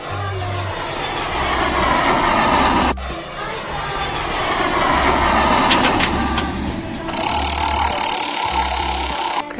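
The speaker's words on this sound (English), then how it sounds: "Plane." Airplane sound effect from a children's vehicle-learning game: a steady loud engine roar with a rising whine, running continuously and briefly cut off near three seconds, with soft rhythmic music underneath.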